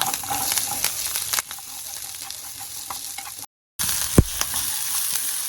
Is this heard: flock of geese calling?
no